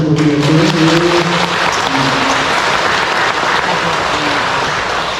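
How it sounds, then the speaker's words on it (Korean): An audience claps together in a steady, dense burst of applause that holds throughout, with a few voices briefly audible early on. "우리 수고하신 뿌리아 단장님 박수 한번 드리겠습니다."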